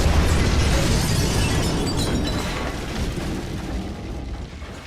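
A car bursts into flames with a loud explosion, a broad booming roar at the start that slowly fades into a sustained burning rumble over several seconds, with no voices.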